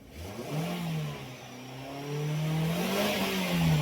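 A Nissan X-Trail with a low-power fault revving hard at full throttle, the engine note climbing, dipping briefly, then rising again loud and close with no talking.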